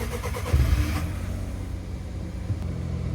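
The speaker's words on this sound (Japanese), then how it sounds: "ちょっとこれでエンジンかけてみよ" A kei truck with a cabin built on its cargo bed cranks and catches with a loud burst. Its small engine then settles into a steady, moderately loud idle hum, with no voices over it.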